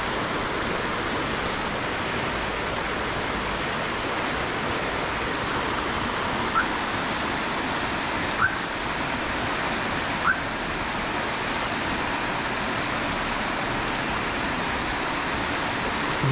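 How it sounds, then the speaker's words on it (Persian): Muddy, silt-laden river at Fasham near Tehran, running lower than usual after a recent flood: a steady, broadband rush of flowing water fills the whole stretch, with a few faint clicks over the continuous wash. "این هم رودخانه فشم، البته پر آب تر از این باشه ولی پر آب نیست و گلالوده."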